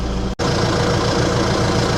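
A Deutz tractor engine idles with a steady, close, low rumble, broken only by a brief dropout near the start.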